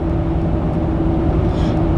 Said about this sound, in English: And you may hear like some road noise.